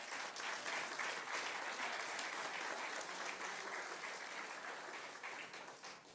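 A congregation claps steadily in church, dense and sustained applause that fades slightly toward the end, heard at a distance without any voices over it.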